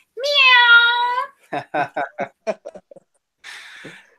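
A voice imitates a cat's meow in one long drawn-out cry, followed by a burst of short chuckling laughter and a brief breathy sound.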